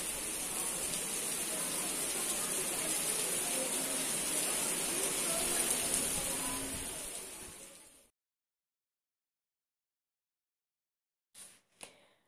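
Rain pours steadily in Spain as a dense, loud hiss of falling water, then cuts off abruptly, leaving silence broken by two short clicks near the end.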